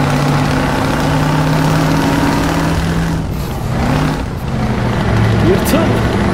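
Car on a snowy road, its engine humming steadily with a low rumble and tire noise, loud and close, while people talk over it.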